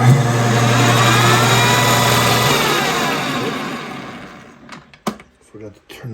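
A large metal lathe spins while a bit cuts a shallow groove into metal, giving a loud steady machine whine and hum that slowly winds down, followed by a few sharp clanks and knocks.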